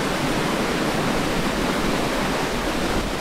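Ritchie Falls at the headwaters of Burnt River roars as a dense, loud, unbroken rush of falling water, steady and close with no voices.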